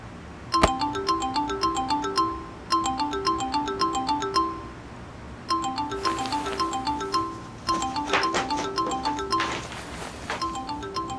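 A phone ringtone plays for an incoming call, a bright melodic chime pattern repeating in short cycles several times, fairly loud and close with no talking over it.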